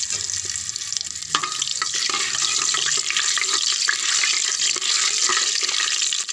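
Whole cumin, cloves and chili sputter and crackle in hot refined oil in a kadai, a dense, steady sizzle with scattered sharp pops held close and loud the whole way through.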